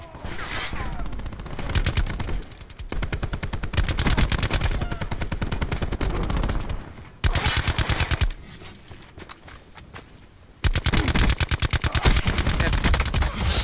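Rapid automatic gunfire in Black Ops 4, long rattling bursts of loud shots broken by short pauses, with fainter game sounds between the bursts.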